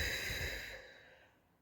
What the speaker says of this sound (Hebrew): ונושפים על התה כדי לקרר אותו.